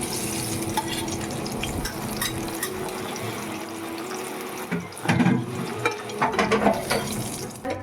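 Bengali onion fritters (piyaji) fry in hot oil with a steady sizzle, and louder stirring clatter comes in bursts during the second half.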